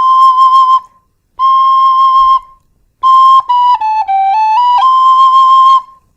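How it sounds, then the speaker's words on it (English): A Tony Dixon DX005 tin whistle plays a long, clear high C natural, pauses, repeats it, then runs through a short stepped phrase of pure, bright tones before settling back. "But you do have a great range on this whistle"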